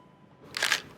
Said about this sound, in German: So, jetzt habe ich hier auf den Knopf gedrückt. Das ist der Auslöser und zack ist das Bild da drin gespeichert.